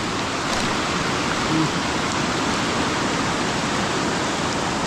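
Heavy rain pours over a cucumber-planting field beside rushing high water, forming a dense, even hiss and roar that holds steady throughout with no clear talk.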